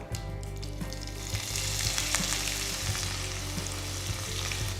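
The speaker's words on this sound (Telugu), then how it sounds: "ఇప్పుడు నేను దీంట్లో ఒక ఉల్లిపాయ బాగా సన్నగా తరిగి వేస్తున్నాను" Finely chopped onion fries in hot oil with mustard and cumin seeds, producing a dense, steady sizzle with small crackles and occasional stirring scrapes, close and continuous.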